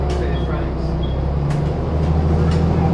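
Steady low engine drone and road rumble fill the inside of a seaside tourist bus travelling toward Beachy Head near Eastbourne, with faint rattles and brief higher hisses over the continuous hum.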